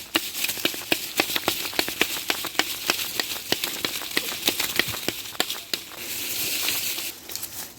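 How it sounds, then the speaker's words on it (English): Rapid, rhythmic scraping strokes of sawing through wood, with a short steadier rasp near the end. "Neatly cut yourself some wood."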